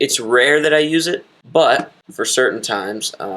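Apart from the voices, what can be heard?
No everyday noise stands out behind the speech.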